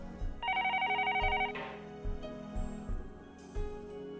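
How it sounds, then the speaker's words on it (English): A desk telephone rings once in the video game Higurashi When They Cry, a single brisk electronic trill set against soft, rhythmic low thuds. "The phone on the desk rang, and the cop picked it up."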